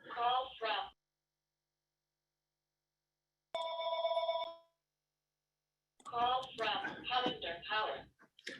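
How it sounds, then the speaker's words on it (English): A telephone bell rings once in a short burst, clear and fairly loud, set between stretches of someone speaking at a public meeting with silent gaps around it. "Apologies for the phone in the background."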